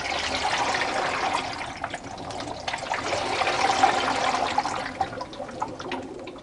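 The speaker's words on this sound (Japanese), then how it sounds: "この音は脱水時のバランスを取るためにバランスリング内に入れてある水の音です。" Water sloshes and trickles inside the balance ring of a Hitachi BD-V5500 drum washing machine as the drum is moved by hand. The wet, swirling rush swells and fades over several seconds. No one speaks.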